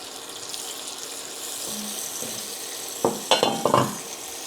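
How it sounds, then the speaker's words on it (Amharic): Onions and garlic fry in vegetable oil for an Ethiopian cabbage dish, making a soft, even sizzle that ends in a few quick clinks and stirring scrapes. "ሽንኩርቱን ነው የምጠብሰው።"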